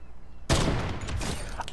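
A sudden burst of gunfire in Fortnite, a sharp shot followed by a rattling volley that trails off quickly, close and loud.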